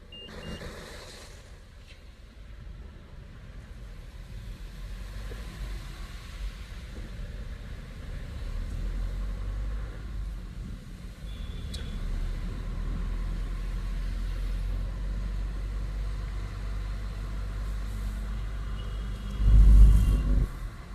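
A truck engine idles and runs steadily at close range for about twenty seconds, with a brief beep near the start and a louder surge of engine noise toward the end.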